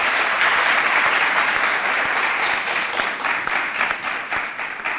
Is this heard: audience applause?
yes